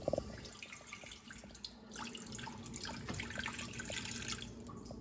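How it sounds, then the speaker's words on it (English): Water pours steadily into a pot on a stove, a soft continuous splashing stream heard up close and fairly quietly. "We're gonna pour the water right there."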